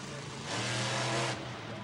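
Monster truck engine at a 2007 Monster Jam event in San Antonio, a loud sustained roar that swells and revs in the middle, heard under an announcer's commentary.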